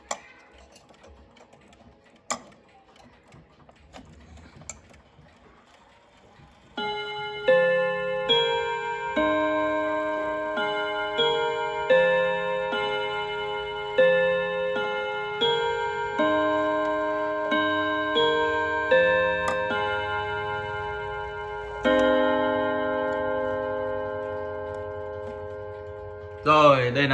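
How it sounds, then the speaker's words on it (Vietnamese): A German-made vai bò wall clock with an FHS movement ticks faintly at first, then plays a loud, ringing chime melody of repeated struck notes that decay between strikes. "Em sẽ thử qua âm thanh của chiếc đồng hồ vai bò này để các bác được thưởng thức âm thanh của chiếc đồng hồ vai bò này"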